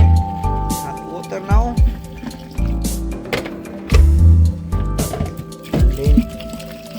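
Hot water is poured into a plastic coolant expansion tank, with sloshing, gurgling splashes in uneven bursts, close by, while someone talks throughout.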